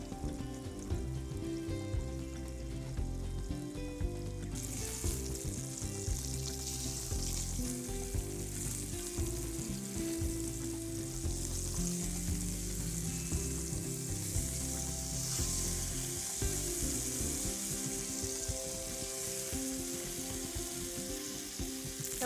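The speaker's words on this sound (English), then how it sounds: "This way the fish will crisp up, we'll get a nice brown layer, but it'll also cook through in some of the thick spots while it's going." Fish pan-frying in a pan to crisp and brown gives a steady, close sizzle that runs without pause, with stirring and pan noises over it and no talk.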